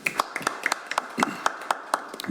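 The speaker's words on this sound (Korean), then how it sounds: "큰 박수 부탁드립니다" A small audience at a policy forum on AI-native government gives sparse, uneven clapping, a few distinct hand claps spaced out over a couple of seconds, moderately near with no voices.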